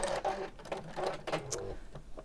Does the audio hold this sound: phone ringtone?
no